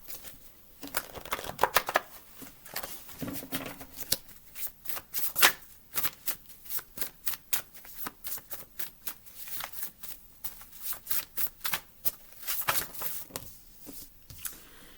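A deck of channel cards is shuffled close by, with repeated crisp riffling bursts and flicks in an uneven rhythm and no speech.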